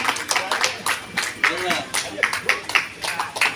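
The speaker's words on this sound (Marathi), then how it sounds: "आपण सगळ्यांनी टाळ्यांच्या गडगडात अण्णांचा वाढदिवस साजरा करतो." Scattered hand clapping from an audience honouring Anna's birthday at a felicitation gathering, coming in uneven bursts with voices talking over it.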